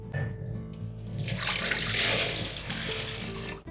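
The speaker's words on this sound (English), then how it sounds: "First, of course, we're going to strain it." Soaked rice being strained, water pouring and draining steadily through a strainer with a rushing splash that swells in the middle, close and fairly loud, no talk.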